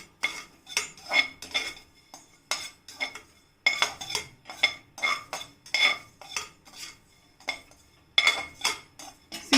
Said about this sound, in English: I feel it is better to give it a stir